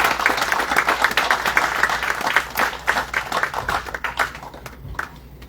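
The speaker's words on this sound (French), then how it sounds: "Il y a un tonnerre d'applaudissements donc pour tout le groupe pour le premier contingent." Applause for a graduating group at a ceremony, a dense burst of many hands clapping close and loud, thinning toward the end into scattered claps.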